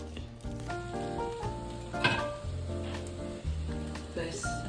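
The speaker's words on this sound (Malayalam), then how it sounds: "കടുക് പൊട്ടിക്കാം. പിന്നെ നമുക്ക് അല്ല just fresh coconut oil like this little bit," Mustard seeds spluttering in a little fresh coconut oil while being stirred, a continuous close sizzle with crackling pops, heard beneath steady background music.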